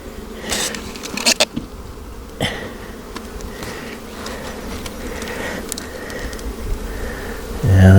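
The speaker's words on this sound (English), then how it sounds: "Yeah, that's a box of bees for sure." Honeybees drone steadily in an open hive box, a dense close buzz running throughout with a few louder bursts as individual bees pass near.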